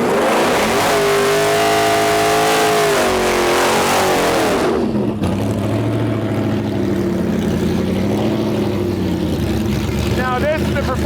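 Ford F-150 regular cab pickup engine at a no prep drag racing shootout, a loud sustained revving roar that drops off sharply partway through, then a lower rumbling drone continues with talk over it.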